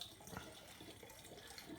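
Water pours steadily from a one-litre jug into an old Sparklets Type D soda siphon, a continuous close splashing and gurgling fill with no voices.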